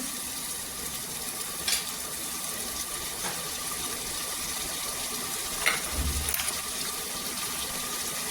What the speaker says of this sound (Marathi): 1-2 मिनिटं छान असे मी इथे तेलावर परतून घेतले